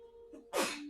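A single sharp sneeze bursts out after a short inhale, close and loud, followed by a faint lingering tone.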